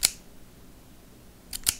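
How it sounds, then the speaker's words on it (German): Scissors snip three times in crisp, short clicks: one at the start, then two close together near the end, recorded close over a faint hiss, with quiet between. "ihr müsst natürlich auch darauf achten, dass die Schere nicht zu sehr quietscht"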